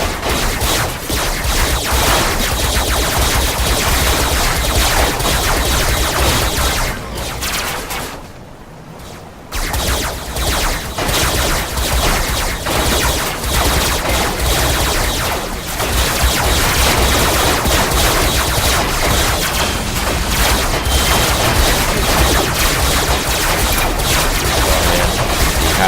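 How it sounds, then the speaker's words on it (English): An SMG in the vehicle-combat game Robocraft fires in loud, dense, rapid bursts that run almost continuously, with one short lull partway through. "with the SMG, what you want to do is tap fire"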